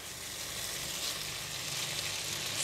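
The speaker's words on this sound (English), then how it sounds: "Give it a mix and make sure that all the prawns are coated with gamhyang sauce." Prawns sizzling in kam heong sauce as they are stirred in a pan, a dense continuous close hiss and crackle throughout, without talk.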